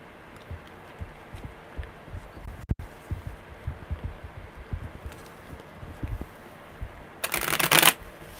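Tarot cards are shuffled with soft, repeated riffling taps throughout, ending in a louder, rapid riffle burst near the finish.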